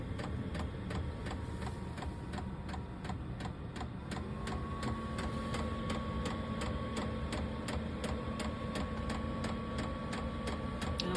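A diesel heater runs inside a tiny camper house with a steady, rapid ticking pulse over a low hum, and a faint tone joins partway through.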